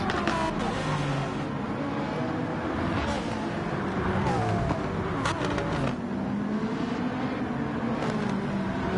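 Engine of a McLaren race car in Gran Turismo 7 at Interlagos, a steady loud drone with rising and falling pitch as it accelerates and shifts, holding continuously throughout.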